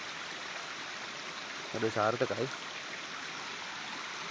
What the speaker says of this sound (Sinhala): බලන්න හරිම ලස්සනයි මේ ඇලක් ගලාගෙන යන්නේ